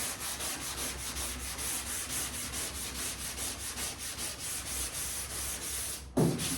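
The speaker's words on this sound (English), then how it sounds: "I need to keep sanding in the dark spots." Steady rhythmic scraping of sandpaper on a sanding block rubbed back and forth across a car's hard painted surface, close and continuous, ending with a brief thump.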